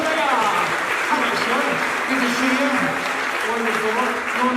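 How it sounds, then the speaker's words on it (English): Loud, close audience applause at a comedy performance during a creative festival, continuous dense clapping with voices talking over it throughout. "give the 3 of these people a wonderful round of applause"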